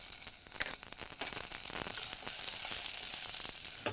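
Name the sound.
carrots, beans and peas sautéing in a pan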